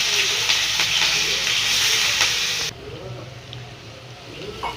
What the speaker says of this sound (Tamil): அன்னாச்சிப்பூ, பெருஞ்சீரகம் போட்டுக்கலாம். அது நல்லா பொரிஞ்சோன்னா வெங்காயம் போட்டுக்கலாம்.